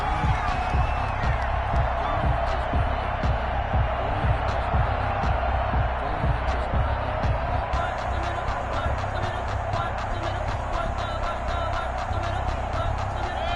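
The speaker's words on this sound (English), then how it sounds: "this crowd has certainly liked what they've seen" A stadium crowd in a PS4 American football game with the Browns roars and cheers steadily throughout, with rhythmic thumps and a play-by-play voice talking over it.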